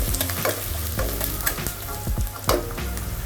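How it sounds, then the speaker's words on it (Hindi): Onions frying in a pan as the base for chhole, stirred with a spoon, making a loud close sizzle broken by repeated scraping stir strokes, with no voices. "ऑनियन को थोड़ा लाल करना है हमें"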